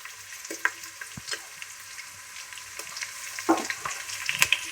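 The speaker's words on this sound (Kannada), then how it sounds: "ಫ್ರೈ ಆಗತ್ತಕ ಉರಿಬೇಕು ಹಸಿ ವಾಸನೆ ಹೋಗತ್ತಕ" Potatoes and peas fry in a pan with a steady, moderate sizzle, broken by a few scraping stirs and louder spatters toward the end, with no voices.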